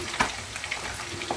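Egg frying in cooking oil, a close steady crackling sizzle with a few small pops over its short length.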